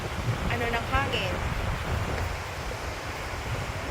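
Strong wind blowing over St. Albans lake in Vermont, buffeting the microphone with a broad steady rush, a voice speaking briefly and faint bird calls early on.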